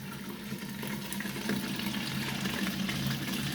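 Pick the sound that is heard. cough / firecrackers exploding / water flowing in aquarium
water flowing in aquarium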